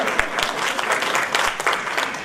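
An audience at the Onyx Women On The Move 2019 event breaks into dense, loud, continuous clapping, close and sustained for a couple of seconds.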